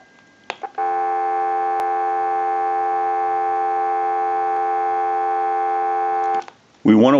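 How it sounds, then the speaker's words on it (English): A steady dial tone from a Stromberg Carlson 1543 rotary desk telephone sounds continuously and evenly for about six seconds after a few brief clicks, ending with a short burst of other noise. "we'll give you some dial tone"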